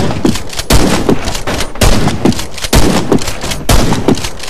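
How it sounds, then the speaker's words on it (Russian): Remington shotgun firing in the game Warface, with five loud, heavy booming blasts spaced roughly a second apart in a steady rhythm, each one ringing briefly before the next shot. "Можем поменять дробовик, например, взять Ремингтон, один из мощнейших дробовиков в этой игре."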